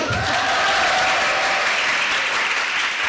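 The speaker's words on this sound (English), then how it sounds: "now we love a little bit of applause, so let me do that again" A panel-event audience breaks into loud, dense applause that fills the room evenly from start to finish, with no speech over it.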